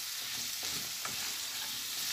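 Liver and gizzards fry with cumin, paprika, black pepper and salt while being stirred in the pan, an even sizzling hiss under a few soft scraping strokes, with no talking.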